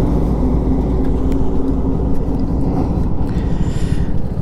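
Triumph Tiger Sport 660 motorcycle engine pulling hard in third gear, a loud, steady, low engine roar with wind rush that holds throughout.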